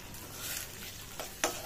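An egg sizzling in a frying pan as it is fried for egg Maggi noodles, a soft, quiet crackle with a couple of sharper stirring clicks near the end.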